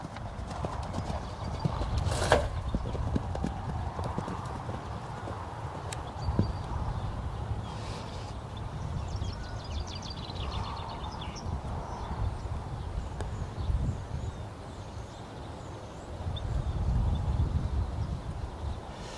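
A young horse, formerly a racetrack horse, works through its first jumping session over a line of jumps, its hooves clip-clopping steadily under outdoor ambient noise, with a brief whinny and occasional low rumbles.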